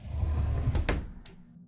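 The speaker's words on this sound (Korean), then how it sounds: "6단 서랍장이네. 나는 하나씩 열어보았다." Wooden drawers of a six-drawer chest slide open with a low rumble, followed by a couple of brief knocks and a faint click as the motion stops, close and quiet with no talk.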